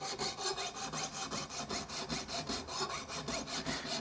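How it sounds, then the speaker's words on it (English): A jeweler's saw cuts a metal part during a bass trombone repair, making a close, rasping back-and-forth stroke about four times a second, steady and alone throughout. "I have my jeweler's saw, and I'm going to cut"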